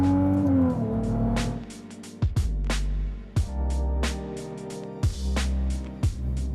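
An 819bhp Ferrari 296 GTB hybrid V6 supercar accelerates hard close by, its engine note climbing through several rapid upshifts, each marked by a sharp break before the revs rise again.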